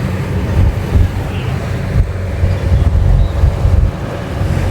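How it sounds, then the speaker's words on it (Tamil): Strong wind and heavy sea waves buffet a rocking boat at night near Katchatheevu island, a continuous loud low roar of gusts and churning water without a break. "அலையும் பயங்கரமாக பலமாக பேசி கொண்டிருக்கிறத பார்க்கக்கூடியதாக இருக்கும்"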